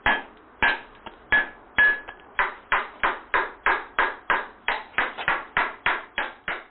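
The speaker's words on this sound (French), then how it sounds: "Le chemin de fer, aussi appelé rabotin, est utilisé pour finir la pierre" A stone is finished with a rabotin (chemin de fer) tool, giving sharp, ringing metallic strikes, slow and spaced at first, then a fast, steady rhythm of close, evenly repeated taps.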